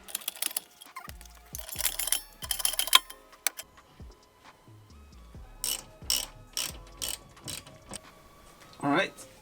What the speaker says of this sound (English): Now we can install the KW shock.